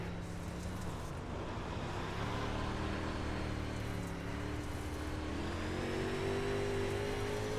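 A race car engine on the Weedsport track in iRacing drones steadily and close. Its pitch climbs gradually through the revs as the car accelerates, with no talk over it.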